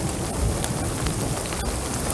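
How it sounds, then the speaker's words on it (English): Hail and heavy rain pelt down during a severe overnight thunderstorm, a dense steady hiss of impacts with occasional sharper hits and no talk. "Oh, and now it's starting to hail."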